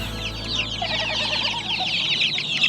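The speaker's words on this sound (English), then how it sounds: "We have 60 baby chicks." Sixty baby chicks of mixed breeds, including Rhode Island Reds, White Rocks, Americanas and Light Brahmas, peep in a steady, busy chorus of high chirps on a homestead, close and continuous.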